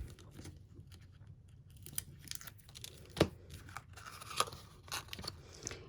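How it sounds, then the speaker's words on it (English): Tape being peeled off a cardboard treat box, close and quiet, with a few sharp tearing rips and crinkles, one louder pull near the middle. "So just take the tape off."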